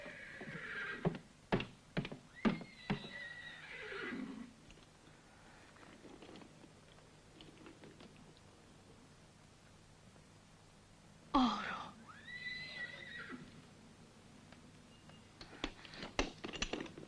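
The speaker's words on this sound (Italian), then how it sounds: "Il vostro cavallo si è imbizzarrito!" A spooked horse whinnies loudly twice in a western film, separated by a quiet stretch, with a few thuds and clatters around the calls.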